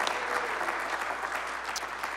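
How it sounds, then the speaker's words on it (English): Steady audience applause during a December morning live show, dense even clapping from a room full of people that holds at an even level throughout. "Big round of applause."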